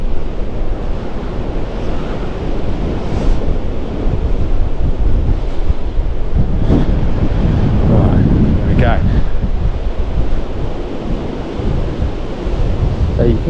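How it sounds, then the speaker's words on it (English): Strong wind buffets the microphone on Worthing pier, roaring and gusting without pause, while sea waves surge and wash below in a constant loud rush. "it is extremely windy today."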